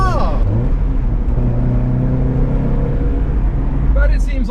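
A Cobra sports car, long left undriven, rumbles along a road with its engine droning steadily from inside the cabin, pitch shifting slightly as it drives, with a voice speaking over it.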